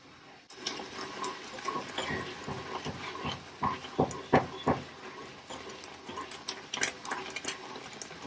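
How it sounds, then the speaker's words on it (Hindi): Shahi paneer gravy simmers and bubbles in a pan while being stirred, a steady hiss and sputter marked by repeated wet pops and spatters, loudest in the middle. "और इसको 2 मिनट तक उबाले दिला लेंगे। और साथ साथ इसको चलाते रहेंगे।"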